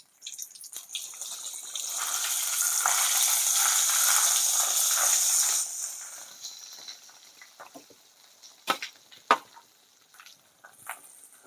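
Ground spice paste for a Vam fish curry hits hot oil in a pot on a wood-fired stove, loud hissing sizzle that swells, holds for a few seconds, then fades into scattered crackles and pops.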